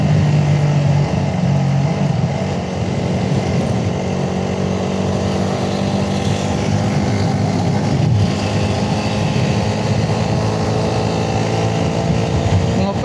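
A Suzuki Raider 150 carburetor motorcycle strains up a steep road, its engine a loud, steady, continuous drone that holds its pitch for the whole stretch.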